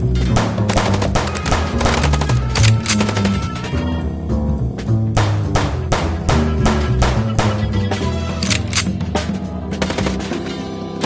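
Rapid gunfire from the noir video game Chicken Police, loud sharp shots in dense bursts over a steady low music bed, continuing through the whole stretch.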